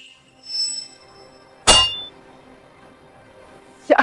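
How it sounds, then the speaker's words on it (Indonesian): A golden bell martial arts technique strikes with a loud, sharp metallic clang, followed by a fading ring and a second burst of clashing at the end. "Ini jurus lonceng emas Daxia"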